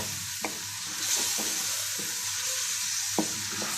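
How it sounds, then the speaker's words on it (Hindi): Fried meat pieces being stirred into bhuna qorma in a pan: scraping stirring strokes over a steady, moderate sizzle of frying, with no talking. "मिक्स करने के बाद आपने फ्राई की हुई जो बोटियाँ थी वो इसमें डाल देनी है। इसमें शामिल कर दें और इसको मिक्स कर लें।"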